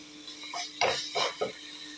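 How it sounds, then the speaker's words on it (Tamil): Greens stems sauté in a pan for a few seconds, giving a soft sizzle with three or four quick scraping stirs of a spoon against the pan, fairly close. "இன்னொரு 10 செகண்ட் மட்டும் வதக்கணும்."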